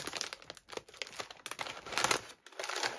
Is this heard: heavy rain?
no